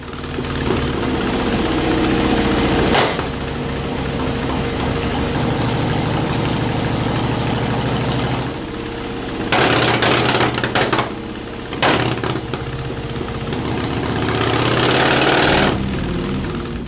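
A motorcycle engine on an S&S Super E or G carburetor, jetted too lean, runs loud and steady close by, with a few sharp surges of revving partway through and no talk over it.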